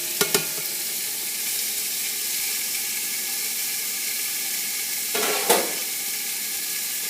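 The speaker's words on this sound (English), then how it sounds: "So my stew meat is in there. I'm gonna let it start browning up." Stew beef browning in a Le Creuset pot, a steady close sizzle and hiss of frying meat running throughout, with a couple of brief clinks or stirring knocks near the start and again toward the end.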